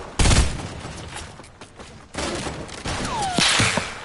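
Gunfire in a shooter video game, several sharp shots and bursts close up, with a whooshing sweep and scattered impacts between them.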